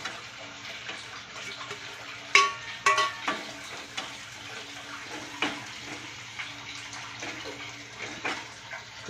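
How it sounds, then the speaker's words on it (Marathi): Tomatoes with spices sauté in hot oil in a pan, a steady soft sizzle broken by scraping and clinking stirs and a few sharper knocks, close up and without speech. "ते चांगलं परतून देऊया"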